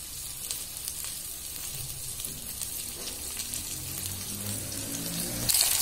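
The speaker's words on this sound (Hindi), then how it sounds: "तो ये चिकन हमारा फ्राई हो रहा है।" Chicken frying in a pan for black pepper chicken, a steady close hissing sizzle throughout with a faint louder crackle near the end.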